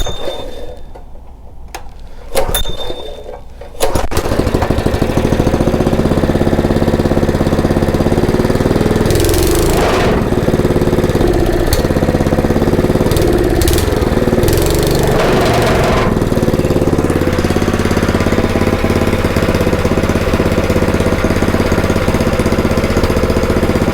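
A Honda GX160 small engine catches after a pull-cord start and then runs loud and steady with a rough chugging drone, revving up briefly a few times, close by.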